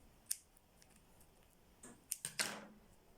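Scissors snipping crochet yarn on a handmade bath scrubber: a few quiet, close clicks and soft snips spread over a few seconds against a faint background hiss.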